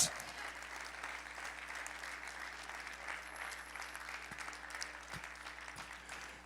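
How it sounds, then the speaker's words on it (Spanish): A church congregation in Bogotá claps for the king during a sermon, a steady, fairly distant wash of applause holding evenly throughout under a low hum, with a few faint voices. "Dale un aplauso a mi rey bien grande."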